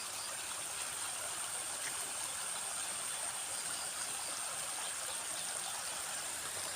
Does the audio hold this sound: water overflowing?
yes